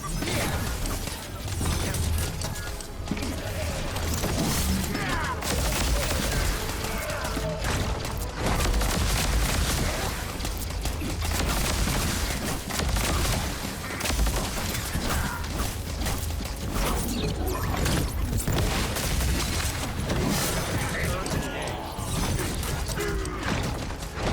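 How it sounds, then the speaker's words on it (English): A turret in the video game The First Descendant fires continuously, producing loud, dense and sustained rapid shots with mechanical clatter that runs unbroken throughout. "Turret engaged. Activating turret."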